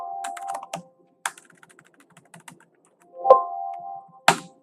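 Keystrokes on a computer keyboard during data entry in Marg accounting software, scattered taps followed by a few louder, heavier presses like the Enter key, close and clear with no talking.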